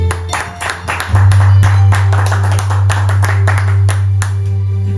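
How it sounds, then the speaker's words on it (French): A church congregation claps and applauds together, producing dense rhythmic clapping over a low steady hum in a large room. The clapping is loud throughout and swells after the first second. "Acclamons pour la parole."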